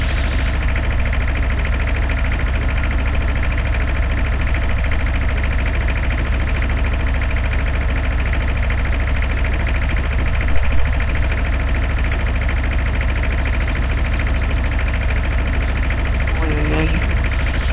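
Tractor engine idling in the Farming Simulator video game, a loud, steady, low mechanical drone with a faint vibrating rattle that holds unchanged from start to finish.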